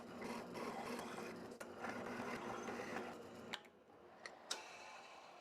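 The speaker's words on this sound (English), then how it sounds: "I've drilled the holes for the volume tone pot and switch" A brad point bit drills slowly through a guitar body for volume, tone pot and switch holes, giving a steady close whirring grind for about three and a half seconds, then stopping, followed by a few sharp clicks and taps.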